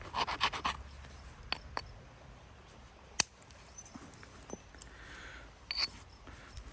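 Flint-like stone knapped with a hammer stone and antler punch, sharp clicks and ticks of flakes popping off at irregular intervals, close and fairly faint over a quiet background, with a small flurry of taps at the start.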